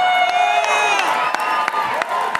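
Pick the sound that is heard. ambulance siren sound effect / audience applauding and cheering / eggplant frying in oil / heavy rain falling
audience applauding and cheering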